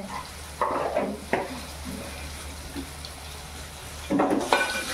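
Curry leaves hit hot oil in a pan while mung bean bhaji is cooked, giving short bursts of crackling sizzle, with a final louder spatter near the end over a low kitchen hum.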